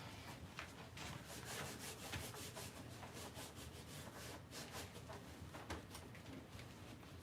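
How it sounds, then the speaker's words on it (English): A handle is scrubbed with baking soda paste in steady, gritty back-and-forth rubbing strokes that continue without a break, faint and close. "you just get that and scrub that with that baking soda paste and get that handle nice and clean"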